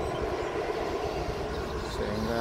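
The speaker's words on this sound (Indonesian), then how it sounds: "Sepertinya ada pesawat yang mau mendarat" An airplane approaching to land at Sultan Hasanuddin airport in Makassar produces a steady broad engine roar and rumble, constant and fairly loud throughout, with faint talking underneath.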